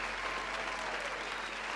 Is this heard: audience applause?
yes